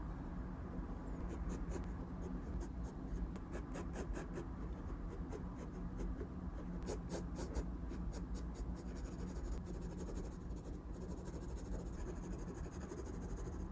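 A pen draws on a tablet or paper with a continuous soft scratching, marked by bursts of quick short strokes, faint and close, over a steady hiss.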